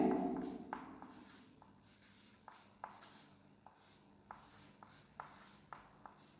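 Marker or chalk strokes on a board while numbers are written during a maths lesson on compound interest, a run of short scratchy taps and squeaks spread irregularly across several seconds, close and moderately quiet, with no talk.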